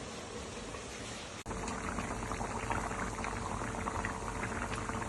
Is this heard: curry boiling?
yes